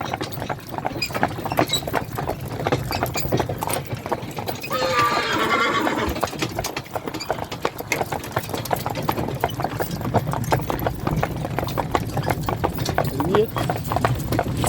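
A stallion whinnies once amid steady hoof clip-clops and a running engine, with people talking over the scene.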